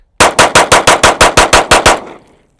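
A Canik METE MC9 Prime 9mm pistol fired rapidly, with ten sharp, loud shots in an even, quick rhythm. The last report rings out briefly before the shooting stops.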